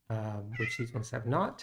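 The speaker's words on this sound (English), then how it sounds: "That's my cat in the background." A cat meows close by in a room, a long drawn-out meow followed by several shorter calls, overlapping a person talking.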